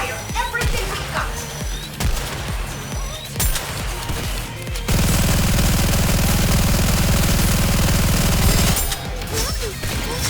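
Gunfire in the video game Goddess of Victory: Nikke, scattered shots giving way to a dense, loud sustained burst of rapid automatic fire lasting several seconds, then tapering into scattered shots, with voices heard over it.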